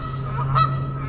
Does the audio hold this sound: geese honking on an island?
yes